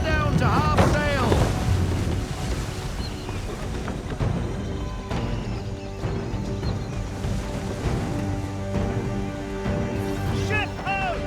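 A sailing ship moves across open sea in the video game Assassin's Creed III, with loud wind, rushing water and creaking timbers, while voices and shouted commands break in over the ambience.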